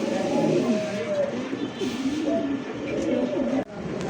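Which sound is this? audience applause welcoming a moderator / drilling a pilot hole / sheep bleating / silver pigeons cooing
silver pigeons cooing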